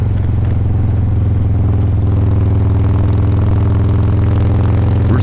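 A motorcycle cruises along New Mexico Highway 24 near Mayhill. Its engine gives a loud, steady, close droning hum that runs unbroken the whole time, with no talking.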